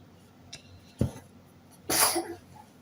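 A single sharp sneeze bursts out after a smaller throat noise, close and loud, with quiet breathing around it.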